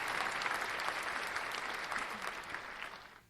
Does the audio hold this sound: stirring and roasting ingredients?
no